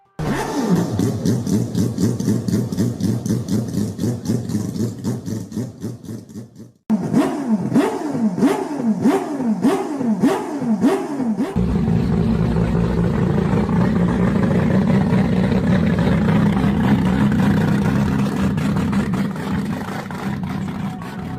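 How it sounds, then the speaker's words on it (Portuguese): A rotary engine running loud and close, with rhythmic revving pulses, a brief cut, then a smooth sustained buzzing idle. "Ouça o som do motor rotativo Wankel"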